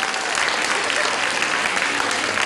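An audience at a Tamil debate show claps in a dense, even burst of applause, loud and continuous throughout.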